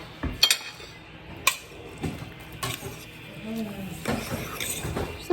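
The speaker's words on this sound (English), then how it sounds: "we'll stir this up with a fork" A fork stirs a mixture with two tablespoons of water in a bowl by the sink, giving light scraping and clinking of metal on the dish, close up, with a few louder knocks.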